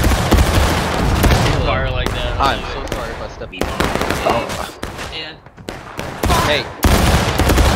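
Musket volleys crack in the War of Rights Civil War game, loud, ragged bursts of overlapping shots in several clusters, interleaved with players talking and shouting between volleys.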